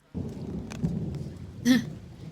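Rain falling in Indonesia with thunder: a steady broadband wash of rainfall runs throughout, with a couple of brief louder cracks or rumbles, one near the start and a stronger one toward the end.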